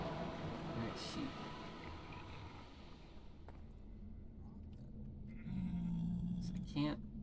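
Sheep bleating in Minecraft, the blocky video game bleat rising near the end of the clip over a continuous mechanical hum and background game noise.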